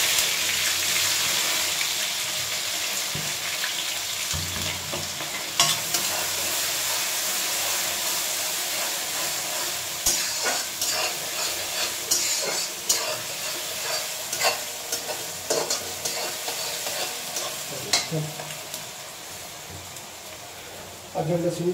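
Chopped onion fries in hot oil with cumin in a home kitchen, making a steady, close, bright sizzle. Scraping clatters from stirring come through, and the sizzling softens and turns more broken toward the end.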